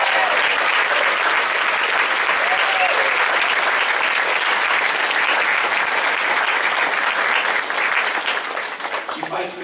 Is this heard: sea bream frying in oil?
no